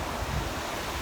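A small waterfall in Himachal Pradesh flows with a constant rushing, hissing wash of water, steady and fairly soft, with wind noise and no voices.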